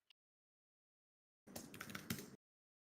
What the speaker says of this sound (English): Yeah, we're typing that out right now.